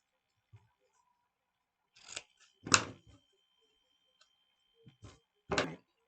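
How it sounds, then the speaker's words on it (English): Scissors snipping ribbon corners at an angle, a few sparse, quiet, crisp cuts spaced out in an otherwise silent room. "So I'm going to cut my corners to give them a nice angled look"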